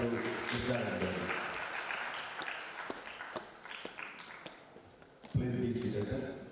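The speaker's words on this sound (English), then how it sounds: "I request all participants to give a big clap to Krishna Reddy Garu." Audience applause at an international science conference rises for a session chair, a fairly quiet spread of clapping that thins out midway, with faint voices and movement and a louder burst near the end.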